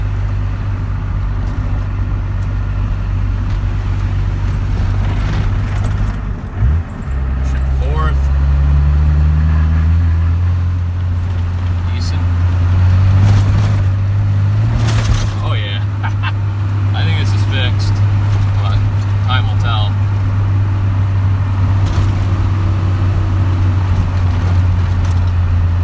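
A Cummins diesel truck engine that won't rev past 2000 rpm drones loudly and steadily in fifth gear up a rough dirt road, its low hum shifting pitch briefly, while someone talks over it.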